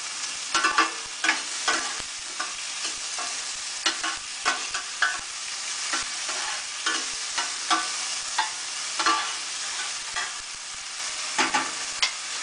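Onions stirred in a hot pot for vegan stewed okra, a spoon scraping and knocking in an irregular rhythm over a soft sizzle, close and clear with no speech.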